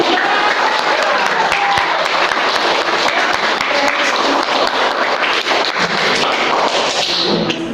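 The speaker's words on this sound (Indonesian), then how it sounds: "Ayo tepuk tangan lagi." Loud, dense audience applause in a hall during a talk show on reading, many hands clapping close and continuous for several seconds with occasional sharper claps, no voices over it.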